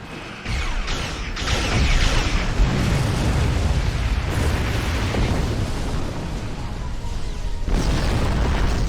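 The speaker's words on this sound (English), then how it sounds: "That was a glorious explosion! Probably the Thalaron weapons carried aboard the ship." A starship explodes in the space combat game Star Trek Online, a loud booming blast that rolls into a long, sustained roar of rumbling debris and crackle, with a second surge near the end.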